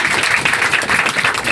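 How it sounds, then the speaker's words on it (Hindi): A seminar crowd claps together in a steady, dense burst of applause, loud and close, filling the room continuously without any voices over it. "एक बार ताली बजा दीजिए।"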